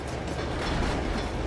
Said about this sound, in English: Wouldn't this be a nice, peaceful train journey through this lovely, luscious land?